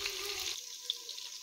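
Onions frying in a pan for chicken biryani give a soft, steady sizzling hiss that runs through a short moment without a break.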